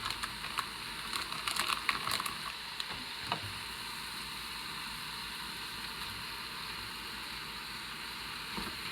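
Ground beef browns in an Instant Pot with a low, steady sizzle and faint crackle, broken near the start by scraping and tapping as the meat is pushed around, no voices.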